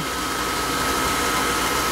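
A pool vacuum runs after a valve is reopened, giving a steady, loud, close broadband whir with a faint hum and no variation or talking.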